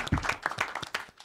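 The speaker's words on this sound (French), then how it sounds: "Et on l'applaudit, s'il vous plaît." Audience applause at a French circus-style stage show, short and uneven with distinct individual claps and a few louder bursts, fairly close and without talk.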